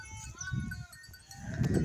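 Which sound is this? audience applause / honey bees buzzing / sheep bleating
sheep bleating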